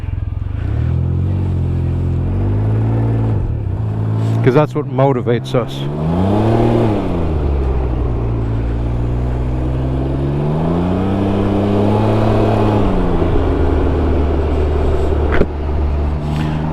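A Can-Am Ryker three-wheeler with a CVT transmission runs at around 3,000 RPM at low road speed, its engine a loud, steady drone that rises and falls in pitch, with someone talking over it throughout.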